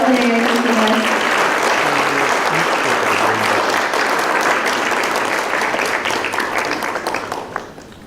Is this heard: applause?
yes